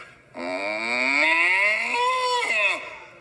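A cow in a hayfield gives one long, drawn-out moo that rises and holds before trailing off, clear and fairly close with no other sounds.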